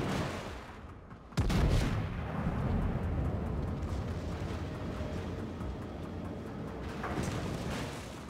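Naval artillery from the battleship Georgia in World of Warships, a single sudden heavy blast after a quiet moment, followed by a long rolling rumble that fades slowly with fainter distant thuds.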